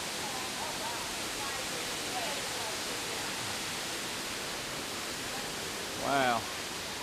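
An Epcot waterfall gives a steady, fairly distant hiss of falling water, with a faint voice rising briefly over it near the end.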